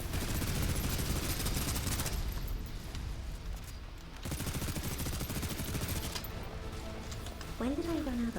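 Rapid gunfire from the game Snowbreak plays steadily in the background of a battle, with a constant rattle of shots and a talking voice over it.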